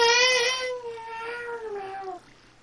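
A pet cat gives one long, loud, drawn-out meow that wavers in pitch and fades over about two seconds, close by and heard alone.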